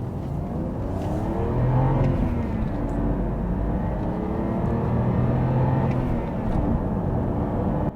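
A BMW E90 with a six-speed manual gearbox accelerates, its engine droning and rising steadily with a shift partway through, heard from inside the cabin without talk.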